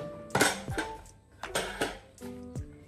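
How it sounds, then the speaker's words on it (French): Pear pieces go into a cooking pan with guinea fowl for a vanilla-scented dish, giving three distinct clattering, sizzling bursts of fruit hitting the hot pan, each with metallic clinks, close and moderately loud. "je vais rajouter les poires"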